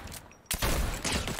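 Rapid bursts of gunfire in the video game Fortnite, loud dense shots after a brief quieter moment, fired close in quick succession.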